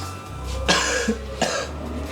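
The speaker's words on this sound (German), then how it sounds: "jetzt tust du mal husten" Two sharp, close coughs separated by a short pause, each a brief harsh burst over a quiet low hum.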